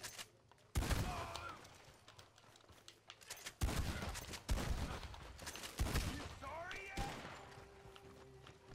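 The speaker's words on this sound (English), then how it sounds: "Shotgun." Repeated shotgun blasts in a video game, several loud separated bursts with ringing tails spaced a second or so apart, alongside game effects and someone talking.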